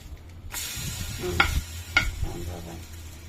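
Egg-dipped bread for French toast frying in a hot pan, a steady sizzle with a few sharp crackles and pops, close and clear with no voices.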